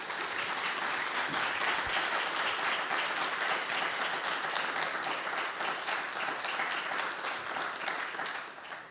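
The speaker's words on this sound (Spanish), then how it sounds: "Por favor, si puede brindarle otro aplauso al Señor." A church congregation applauds together, a dense, steady wash of clapping that fills the room from start to finish without letting up.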